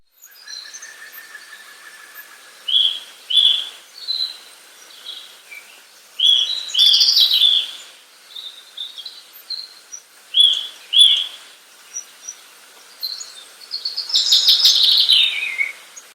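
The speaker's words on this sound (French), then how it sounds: "voici les vocalises matinales de nos amis les oiseaux, et ceci sans trucage" Morning birdsong in the Bertranges countryside, several birds chirping and trilling in bursts of varied calls with short pauses, clear and fairly close, no voices.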